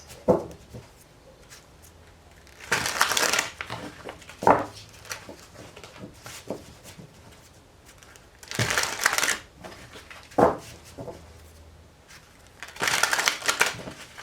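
A deck of tarot cards is shuffled in three separate bursts of quick riffling and slapping, close and crisp, with quiet handling noises and faint knocks in the pauses between.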